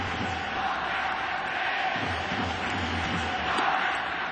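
Baseball fans in the right field bleachers at a Yomiuri Giants spring training game cheer and chant, a broad, steady crowd roar with rhythmic swells, heard from a distance.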